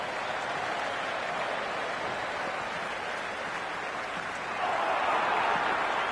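Crowd noise in the cricket video game Cricket 26 forms a steady, dense wash of applause and cheering throughout, swelling a little louder near the end, with no clear talk on top.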